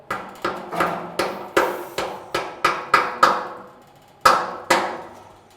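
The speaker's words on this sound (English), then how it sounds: "So a good quality soft rubber mallet and specific tap, or you can just use a hard peg." A soft rubber mallet knocks a tap into the shive of a beer cask, about a dozen sharp, close thuds in a steady rhythm that each ring out briefly, then two final harder blows after a short pause.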